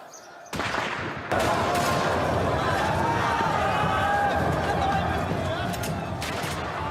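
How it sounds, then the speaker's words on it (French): Rapid gunshots crack out in a chaotic burst after a quiet start, with sharp repeated reports over a noisy crowd in the distance. "tout de suite, ça a été les coups de feu"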